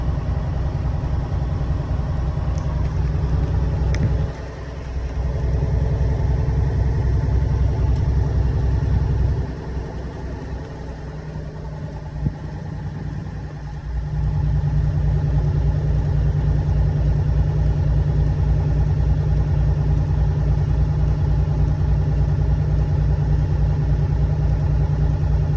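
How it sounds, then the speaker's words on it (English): A truck engine runs at a high, steady governed speed during a CDL in-cab inspection, a loud, continuous drone with a couple of brief dips in level before it holds steady again. "Now that we've heard the truck govern"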